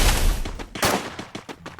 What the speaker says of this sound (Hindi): गोलियां चलता तो रहा है।